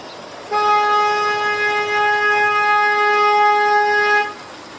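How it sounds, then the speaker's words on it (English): A single long, steady narrowboat horn blast sounds loud and close on the Wardle Canal, holding one tone for several seconds before cutting off, with quiet background before and after. "A blast of my louder horn, or not louder but longer horn."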